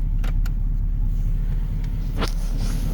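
A 1978 Lincoln Mark V Diamond Jubilee Edition idles with a steady low rumble from its engine, heard close and continuous, with a few faint clicks and rattles on top.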